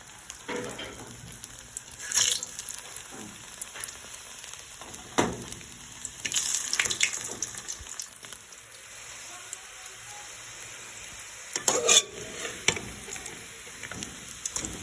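Chicken seekh kebabs frying in a kadhai, a soft steady sizzle with a few sharper clatters and scrapes now and then.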